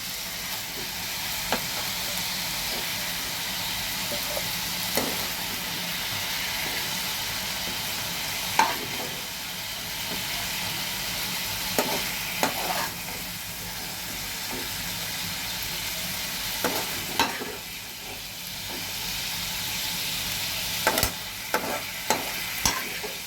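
Small shrimp fry in hot oil with a steady, fairly loud sizzle, broken now and then by sharp clicks and scrapes of stirring, with no voices.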